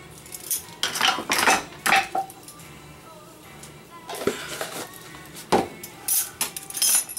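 A metal spoon clinks and scrapes against a bowl and utensils while tapioca is measured into apple pie filling, a series of sharp, close clatters in uneven bursts with quiet gaps between them.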